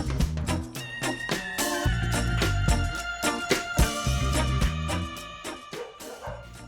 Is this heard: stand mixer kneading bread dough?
no